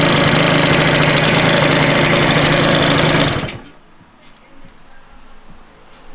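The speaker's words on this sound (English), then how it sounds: "Sound like a little exhaust leak." A 120cc stroker Honda DIO Elite scooter engine with a slight exhaust leak idles loudly and close with a fast buzzing rattle, then cuts off abruptly, leaving quiet background noise.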